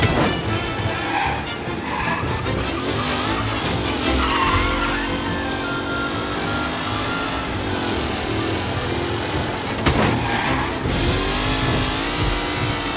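Simulated race cars in Mafia: Definitive Edition roar past in a close, loud pack, engines revving and shifting while tires squeal and skid through corners, continuous for several seconds.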